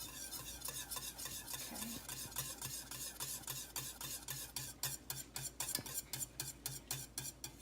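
A frothing, boiling roux-like mixture is stirred steadily in a pan, the spoon scraping in a quick regular rhythm over a low bubbling sizzle; a voice speaks a single word near the end.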